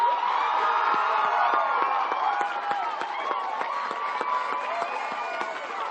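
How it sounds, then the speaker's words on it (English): Audience at a high school graduation ceremony cheering, whooping and clapping, a dense crowd roar with sharp claps, loud and sustained throughout. "let's have a round of applause for Miss Amanda Alexander"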